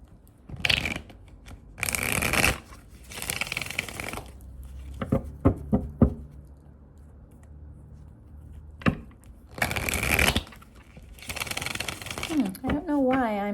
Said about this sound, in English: I don't know why I'm shuffling not on camera